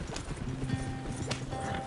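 Horses galloping in the video game Red Dead Redemption 2, a quick steady run of hoof clops, close and fairly loud, under a faint background hum.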